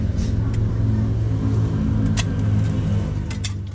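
A car engine runs with a steady, close low rumble throughout, with a few faint clicks and knocks on top.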